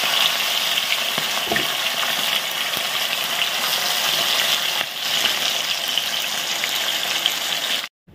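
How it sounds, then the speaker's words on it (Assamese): Silver pomfret pieces fry in hot oil in a pan, a loud continuous sizzle and crackle close up, steady throughout with occasional brief stirring noises. "এতিয়া মাছখিনি ভাজি লওঁ"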